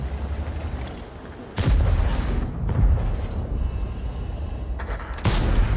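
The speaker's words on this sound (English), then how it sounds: "There was a tree that dropped, so I tried a blind shot" Tank cannon blasts in World of Tanks, a blind shot fired from cover: two heavy booming gunshots about four seconds apart over a steady engine rumble, loud and close with no voices.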